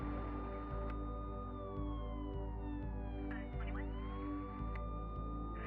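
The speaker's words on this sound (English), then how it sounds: "I do not like music that has sirens in it." A wailing siren sweeps up and down inside streamed electronic music, riding over a steady pulsing beat and bass line at a constant moderate level.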